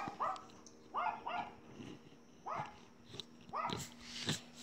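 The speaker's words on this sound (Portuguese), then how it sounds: "que é os cachorros achando que é outra pessoa" Dogs barking at a house, several sharp barks in irregular bursts, close and fairly loud, with no talk.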